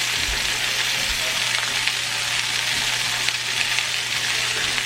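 Meat searing in a pan, a loud continuous sizzle with crackling and a low hum underneath, steady throughout with no break.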